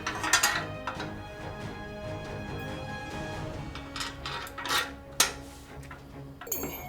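Metal bolts being fitted and fastened onto a bike rack during bicycle assembly, with scattered clinks and clanks of hardware against metal at close range, a few sharper knocks standing out over a steady low background hum.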